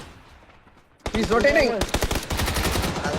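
Two or more gunshots from a shotgun in the video game PUBG, loud close blasts starting after a quiet second and followed by rapid dense repeated firing with no talk.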